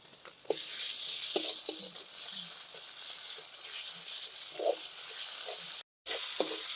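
Garlic frying in a kadai over a clay village stove makes a steady bubbling sizzle with occasional scrapes and taps. It continues through a brief gap near the end.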